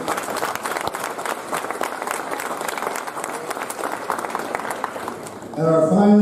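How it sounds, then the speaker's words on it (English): An audience at a livestock parade of champions and premium auction claps steadily, a moderate wash of applause that holds for several seconds before a voice comes in over it at the end. "Let's give them a round of applause."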